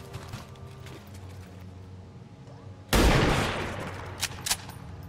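A single heavy blast of gunfire at a turret during a landed UFO assault in XCOM 2, a sudden loud burst that decays slowly, followed by a couple of sharper impacts over low game ambience.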